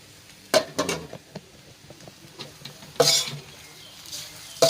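Instant noodles with pork belly are stir-fried in a pan: scattered metallic scrapes and clanks of a utensil against the pan, with soft sizzling between sharper knocks, fairly close and mostly quiet.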